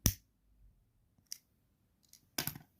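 Scissors snip thread during a crochet or tatting project, a few short crisp clicks spaced apart with a louder double cut near the end, close and quiet with no talk.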